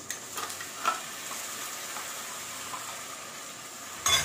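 About two cups of water go into a hot cooking pan, setting off a steady hiss and sizzle with small bubbling that carries on at a low level, then flares briefly at the end.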